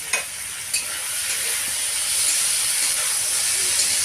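Vegetables and pumpkin stems frying in a pan, a steady bright sizzle and hiss with a couple of scraping stirs near the start, close and continuous.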